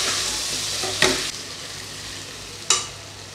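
Chilli powder and curry masala sautéing in hot oil, a soft steady sizzle with two sharp scraping stirs of a spoon in the pan, close and fairly quiet.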